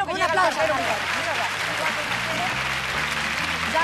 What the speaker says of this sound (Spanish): Un aplauso al cartero